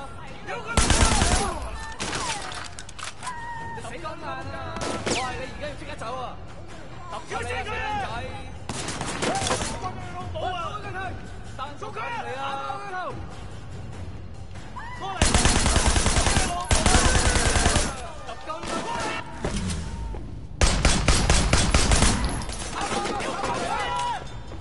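Gunfire from Sleeping Dogs breaks out in several loud bursts of rapid shots, sometimes close and sharp, with gaps between volleys. A person speaks over much of the shooting.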